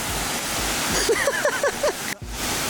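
A waterfall on Réunion Island roars as a steady, loud broadband rush, while a voice briefly rises and falls over it before the wash continues.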